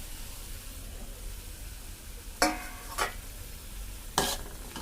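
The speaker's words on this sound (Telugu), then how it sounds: "ఇప్పుడు ఇందులో మనం కట్ చేసుకున్న టమాటా ముక్కలు వేసుకుందాం" Chopped tomatoes frying in a pan under a faint steady sizzle, stirred with a few distinct scraping strokes, close by with no talk.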